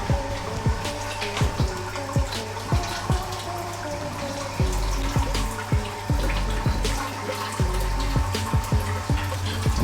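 Water flows and splashes steadily as the mash is sparged during a pale ale brew day, a continuous trickling gush with repeated soft clicks and knocks close by.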